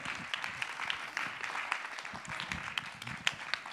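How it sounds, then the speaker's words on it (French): Scattered, uneven applause from an audience greeting a speaker introduced as president of Bosnia, with distinct individual claps popping out of a light, thin crowd sound over a few seconds. "je vous demande de l'applaudir comme il se doit"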